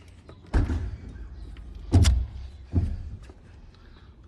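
An electric trunk lid on a blue Aero Willys 2600 with a six-cylinder engine runs in short bursts, three distinct mechanical whirring and thumping pulses close by with quiet pauses between them.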